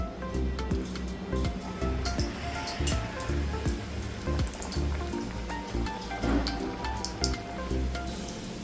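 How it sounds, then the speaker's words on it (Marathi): Puris are slipped into hot oil for deep-frying, which sets off a soft, steady sizzle and bubbling crackle at close range, fairly quiet and without talk. "आता आपण पुऱ्या टाकून घेऊया."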